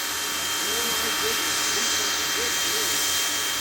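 A steam locomotive on an excursion railway gives off a loud, continuous broadband hiss of escaping steam that fills the whole stretch, with a faint low rumble and some murmuring beneath it.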